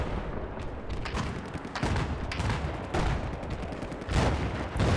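Mortar rounds landing in a 32 vs 32 battle on the Locker map of a first-person shooter, a rapid string of booms and gunfire bursts at close range, loud and continuous.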